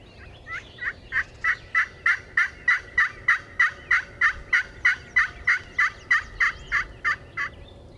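A wild turkey gobbles in a long, rapid run of about twenty evenly spaced calls, clear and fairly close, over a quiet background near a chopped cornfield during a spring hunt in Wisconsin.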